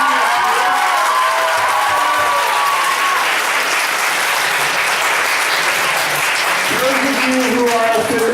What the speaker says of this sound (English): give a huge round of applause to our host school